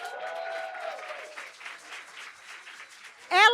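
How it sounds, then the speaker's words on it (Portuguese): A studio audience claps in a soft, steady wash of applause, faint and even, with a voice speaking over it near the end. "Vamos uma salva de palmas para ela?"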